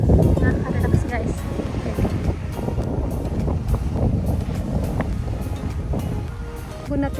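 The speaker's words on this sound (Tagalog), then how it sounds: "tunog ng alon pala" Sea waves wash against the shore of an island in Saikai, Nagasaki, a steady broadband surf close by with continuous rushing and gusty wind buffeting the microphone throughout, and faint voices in the background.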